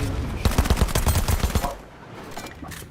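A shotgun fires in a first-person video game, with a quick run of loud, close, punchy blasts in steady rhythm for over a second, then quieter background sounds, and no one speaking.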